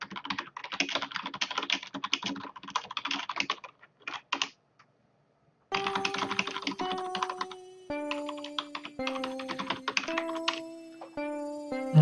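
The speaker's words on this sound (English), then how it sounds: "Let's type this." Rapid close clicking of typing on a computer keyboard comes in quick bursts, with a short pause partway and electronic beeping tones stepping along under the later keystrokes.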